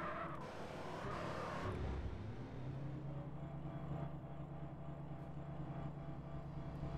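A car engine in GTA San Andreas drones steadily and loudly throughout, with a busier burst of noise at the start before settling into a continuous hum.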